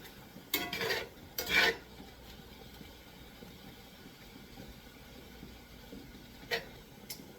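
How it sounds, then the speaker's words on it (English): A spoon stirs boiling pasta in a pot on high heat after the lid is lifted, giving a few brief metallic scraping clatters over a low steady background rumble. "Just lift the lid, give it a quick stir"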